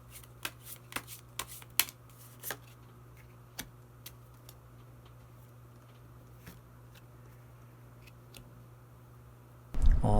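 Tarot cards are shuffled and drawn by hand, giving a flurry of crisp card taps and flicks early on, then sparse single snaps spread out, with a louder rustle at the very end.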